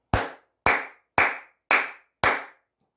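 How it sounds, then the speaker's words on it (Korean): Five loud, sharp hand claps in a steady rhythm, each ringing briefly, close by with nothing else heard. "크게 박수 한번 치고 가도록 하겠습니다"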